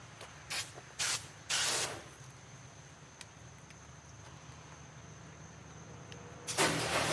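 Short bursts of a spray nozzle rinsing a car coated with Turtle Wax Ice Speed Compound: three quick hissing blasts close together, a long quiet pause, then another spray starting at the end.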